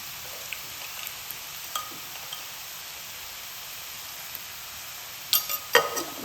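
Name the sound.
chopped onions and salt sizzling and being stirred in a pan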